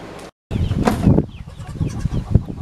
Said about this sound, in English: Please don't excuse my obnoxiously loud squeaky bird